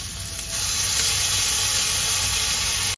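Ginger garlic paste hits fried onions in a hot pan and bursts into a loud, steady sizzle. The hiss rises after a brief quieter start and carries on without a break until it cuts off abruptly.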